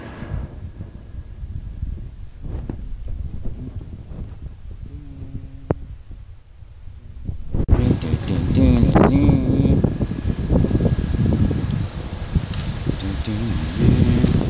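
Wind buffets and rumbles against the microphone, growing stronger halfway through, with rustling and a faint voice in the background.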